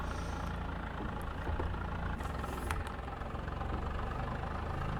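A tractor engine idles in Farming Simulator 22, a steady low rumbling chug with a faint knocking texture, continuous and fairly close with no talk.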